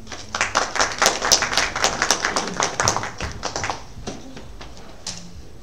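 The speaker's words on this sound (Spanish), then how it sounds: "Les pido un fuerte aplauso." Audience at a medical talk on glaucoma applauds with rapid, distinct hand-claps, loud at first and then thinning out and fading over several seconds.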